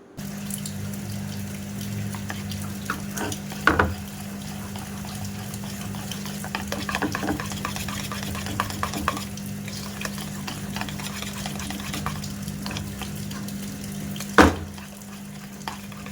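A spoon stirs smooth banana pancake batter in a bowl, making a continuous soft wet swishing with a low steady hum beneath and a couple of sharper knocks against the bowl's side.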